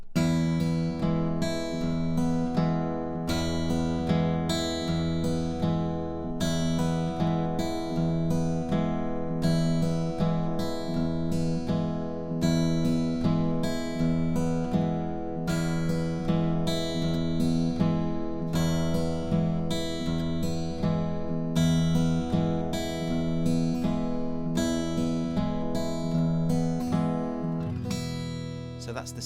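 Acoustic guitar playing a looped blues Travis-picking bar, with steady alternating thumb bass and plucked treble notes repeating in an even rhythm for the whole stretch at moderate level.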